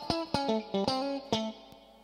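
Single electric guitar notes are plucked one after another through a triamp amplifier, each ringing out with a reverb tail that lingers between notes.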